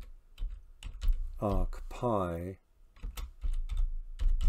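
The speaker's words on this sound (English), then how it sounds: "And we do that by typing in from" Computer keys clatter in quick irregular taps, close by, with a short stretch of spoken words in the middle.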